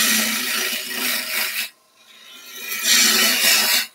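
A wood lathe gouge makes delicate pull cuts on a turned wooden button box, two bursts of close scraping, rasping noise separated by a short quiet pause.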